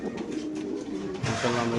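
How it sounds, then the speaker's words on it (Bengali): A large male racing pigeon coos steadily at a bird market, a low murmuring call close by, with more cooing rising toward the end. "এখানে আছে বিশাল বড় সাইজের একটা নর কবুতর"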